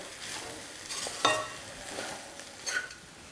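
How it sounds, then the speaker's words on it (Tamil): Rice mixed with mango thokku is stirred in a vessel, giving soft, uneven scrapes and light clinks of a spoon. A few sharper strokes stand out, and the sound is fairly quiet and close, with no talking. "இந்த மாங்காய் தொக்கு தேவையான அளவு சாதம் போட்டு கலந்துட்டேன்"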